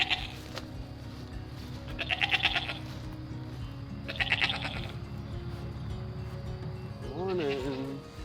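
Goats on an off-grid homestead in Hawaii bleat in several separate calls spaced a couple of seconds apart, moderately close, over a low steady background hum with faint voices.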